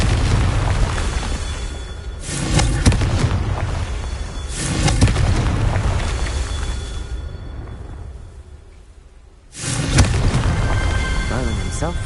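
Confringo fire spells blast in Hogwarts Legacy, three booming explosions with rumbling tails spaced several seconds apart, loud and close, with a faint game voice between them.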